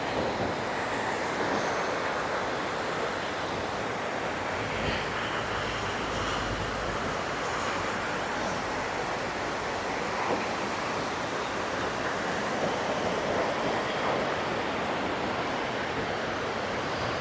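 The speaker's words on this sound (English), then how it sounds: "This is a beach here." Waves washing on a beach produce a continuous broadband rush, steady and fairly loud, mixed with wind buffeting the microphone.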